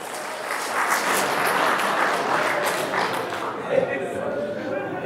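An audience at an Islamic religious motivational talk claps in a sustained round of applause that fades after a few seconds, with a voice speaking over it near the end.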